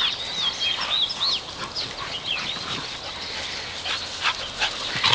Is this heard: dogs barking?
yes